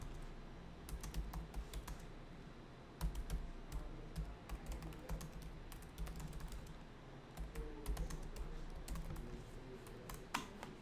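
Computer keyboard being typed on while writing a course description, irregular bursts of close, crisp key clicks with short pauses between runs.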